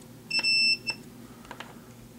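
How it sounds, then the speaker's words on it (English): A multimeter's continuity test gives a sharp electronic beep for about half a second while checking a generator coil, followed by a brief second chirp, then faint taps in a quiet room. "I've got my meter set to ohm, which, if they're touching together, it'll beep."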